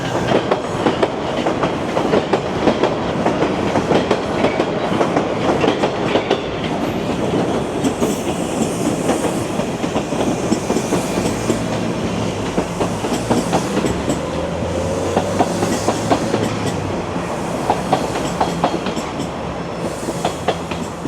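Toronto subway Line 1 trains rumble past with rapid, repeated clickety-clack of wheels over rail joints, loud and close, sustained throughout with metallic rattling.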